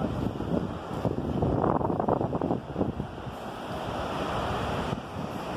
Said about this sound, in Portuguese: vou mostrar para vocês a praia aqui, ó.